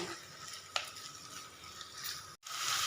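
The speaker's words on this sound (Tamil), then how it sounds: "இந்த பெரிய வெங்காயம் வந்து நல்ல கோல்டன் கலரில் வர அளவுக்கு வணக்கி எடுத்துடலாங்க" Large onions sauté in a pan until golden for a chicken gravy. A bright, continuous sizzle carries under a spoon stirring and scraping, with one sharp clink and a brief gap near the end, and no voices.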